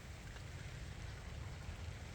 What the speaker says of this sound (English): It's raining. It's been raining since last night.